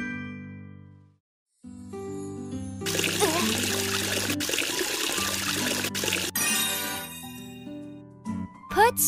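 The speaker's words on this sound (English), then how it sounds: "Wash the face with water." Cartoon face washing with water: a busy splashing, trickling wash of sound over a bouncy musical background, starting after a brief pause and running several seconds with a few sharp clicks.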